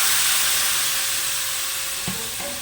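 Ginger, cumin powder and water hit a hot pan and sizzle loudly, a bright steady hiss close up that eases off slightly, followed by a couple of soft clinks from stirring near the end.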